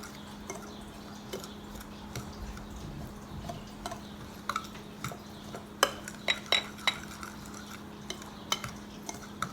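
Spoon mixing almond flour dough in a bowl, soft stirring with scattered light clinks and taps against the bowl, growing more frequent toward the end, over a low steady hum.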